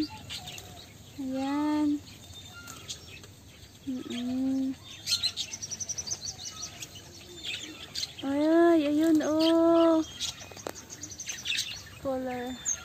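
Birds on a farm in the UAE give repeated rising, wavering calls in several bursts, fairly close, with softer chirps between and brief voices speaking quietly among them.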